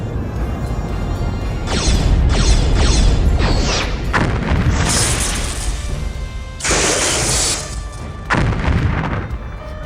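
A starship in a space battle takes a direct hit in a series of loud, heavy booming explosions with crashing, rumbling impacts, some short and some sustained, one after another.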